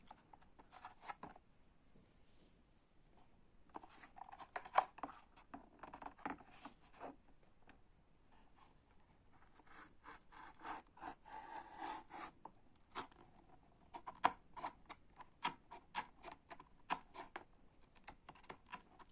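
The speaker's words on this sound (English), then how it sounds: "let's cut the box open" Cardboard box for a Dacia 1300 1:43 scale model car being cut open, with quiet close scraping, rubbing and tearing sounds coming in irregular bursts, faint against a quiet room.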